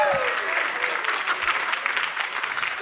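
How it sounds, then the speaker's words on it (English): An audience applauds after a fashion show at a Hawaiian cultural event, a steady wash of clapping from a crowd that holds for the whole stretch at moderate loudness. "how's about a big round of applause for Wahine Toa Designs?"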